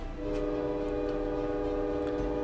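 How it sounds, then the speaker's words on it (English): Mournful wail of a ghostly train whistle, one sustained steady tone that holds for the whole stretch, loud and alone with no talking. "Once again, the mournful wail of the ghostly train echoed through the air."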